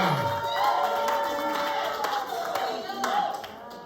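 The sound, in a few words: wedding guests applauding the couple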